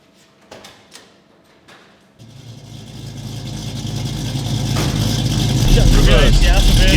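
A Ford Mustang resto mod's engine starts up and idles, then builds in loudness as the car pulls away, with a few brief voices and clicks at the start.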